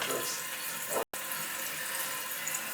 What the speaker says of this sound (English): That's normal for the water to come out.